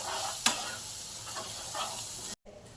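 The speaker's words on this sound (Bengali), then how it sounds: "দিয়ে এটা একটু নেড়ে নেব।" A spoon stirs fried onion, cashew and green chilli paste in a pan, giving a steady soft sizzle with a few scraping strokes and a brief sharp clack near the start, then a short dropout.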